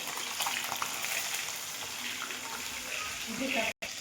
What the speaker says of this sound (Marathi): मच्छी आता आपण चांगल्यापैकी फ्राय होऊ देणार आहोत।